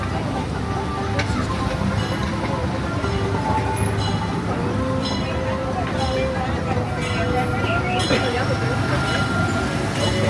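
Disneyland Railroad train idling at Main Street, U.S.A. station, a steady low rumble with faint clanks and mechanical hiss throughout while a conductor's voice speaks over a loudspeaker.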